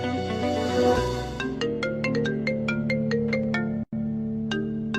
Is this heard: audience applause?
no